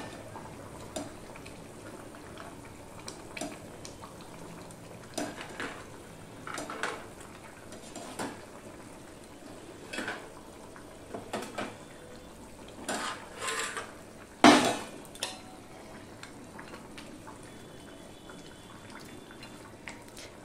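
Fried bori lentil dumplings and katla fish pieces being added one by one to a pan over a high flame, with scattered metallic clinks and knocks of utensils over a soft background sizzle, no talk.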